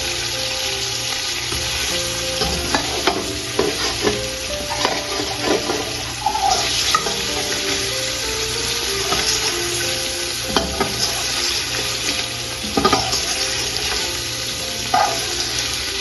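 Garlic and ginger fry in a pot for mutton yakhni pulao, a steady close sizzle with occasional scraping and stirring clatter throughout.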